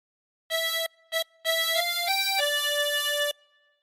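A tremolo harmonica plays a short melodic phrase of the nursery tune Hey Diddle Diddle: two brief notes, then a sustained run of shifting reedy tones, close and clear, with no talking.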